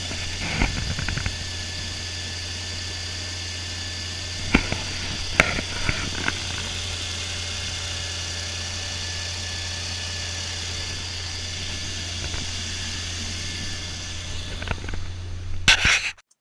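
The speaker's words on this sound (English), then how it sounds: "Now you can hear the engine already." A Maserati Coupe engine idles with a steady low hum and faint vibration, a few soft clicks and knocks scattered through, no voices.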